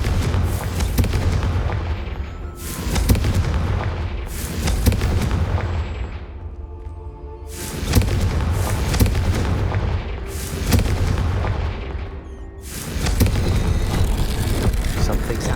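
Fire spell blasts in the Hogwarts Legacy game: a run of heavy, booming explosions, about six in sequence with rumbling tails, loud and close, separated by brief quieter gaps.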